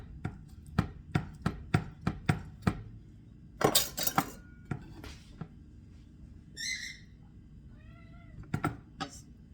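A cat meows several times, short, clear and close, between sharp rhythmic knife chops on a cutting board and clattering dishes in a kitchen while shrimp in tomato sauce is cooked.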